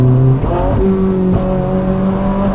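A Ferrari 458 Spider engine revs loud and close, rising in pitch and dropping sharply at each gear change as it pulls through several shifts with no talk.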